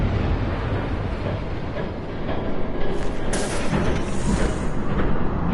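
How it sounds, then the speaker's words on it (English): A train rumbles past in Batman: The Telltale Series, a dense, loud roar with a rattling rise in the second half and no voices. "There's a train coming."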